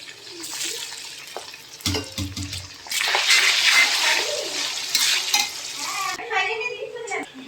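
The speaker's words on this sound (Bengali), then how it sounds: "এখন আমরা ভালো করে এটাকে মিলিয়ে নেব" Boiled basmati rice is stirred into a pan of fried cashews and raisins, giving a scraping, sizzling mix of stirring sounds that swells in the middle and then eases.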